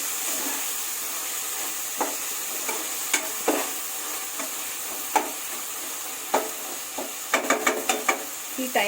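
Tomato mashed and stirred as it fries in a pan for mushroom biryani: a soft, steady sizzle broken by irregular scraping and tapping strokes of a spoon, bunching into quick clatters toward the end.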